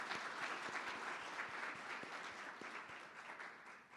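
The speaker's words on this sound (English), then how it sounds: "Will you give them a round of applause?" An audience at a community college Veterans Day ceremony gives a sustained round of applause for the staff of the Military and Veterans Office, with dense, even clapping that slowly fades toward the end.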